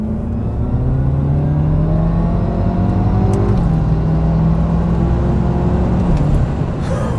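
A BMW F10 M5 accelerates hard down a straight, its engine droning loud from inside the cabin, pitch climbing through gears with a brief shift dip, steady road roar underneath.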